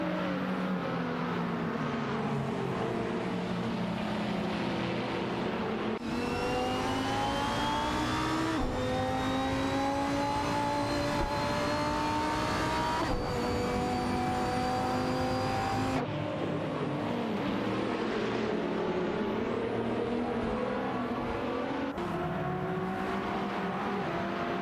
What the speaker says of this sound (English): But the Lamborghini seems to have better acceleration down the straight.